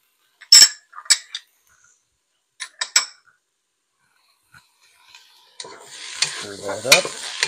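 Garlic and ginger going into a pan: a few sharp clinks and utensil taps with pauses, then a rising sizzle of frying with stirring scrapes near the end, close by and with no talk.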